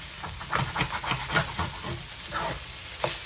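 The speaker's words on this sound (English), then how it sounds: "Stirring from the bottom, scraping up the goodies, and mixing it in." Pineapple fried rice stirred and scraped from the bottom of a pan, a gentle sizzle under repeated soft scraping strokes in an irregular rhythm, close and moderately quiet with no talk.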